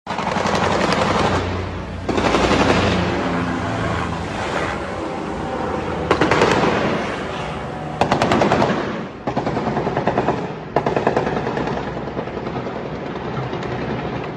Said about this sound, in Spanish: se reportaron disparos contra un helicóptero desplegado para los trabajos de reconocimiento